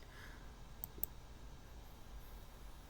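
Two quick, faint computer mouse clicks in close succession against a quiet room background.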